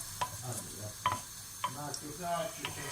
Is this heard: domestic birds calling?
no